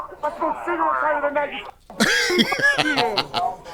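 Several people cough from tear gas at an ICE protest, clearing their throats harshly at close range, with rough, strained voices mixed among the coughs.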